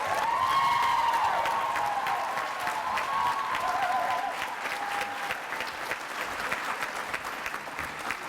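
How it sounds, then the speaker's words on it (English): A crowd applauds steadily at a graduation ceremony in Tampa Bay, the clapping dense and sustained throughout and fading slightly toward the end, with a faint voice briefly audible early on. "Now, please give a round of applause"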